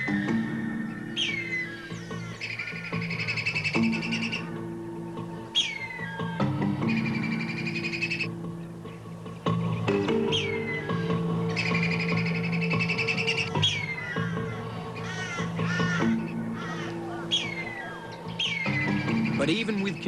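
Crows and kites harass a wedge-tailed eagle feeding on a rabbit in the Australian outback, their repeated cawing and shrill calls rising in loud bursts while someone narrates throughout.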